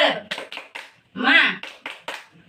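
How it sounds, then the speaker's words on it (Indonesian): A group claps out a short rhythmic 'tepuk semangat' ice-breaker pattern during a classroom presentation, with sharp clustered bursts separated by brief gaps, mixed with chanted voices. "tepuk semangat"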